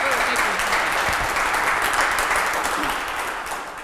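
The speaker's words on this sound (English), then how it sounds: "So Julie, give her a round of applause." Sustained audience applause at a formal announcement event about the historic Daniel Boone Home, a steady dense wash of clapping that holds loud throughout and eases off slightly toward the end.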